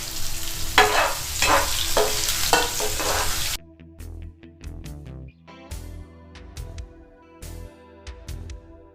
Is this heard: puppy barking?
no